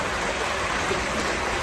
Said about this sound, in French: on a un ruisseau permanent qu'on capte pour l'instant dans les tuyaux